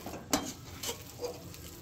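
A spoon stirs ragi rava upma in a pan. Three soft, brief scraping strokes are heard, faint and evenly spaced, over a low background.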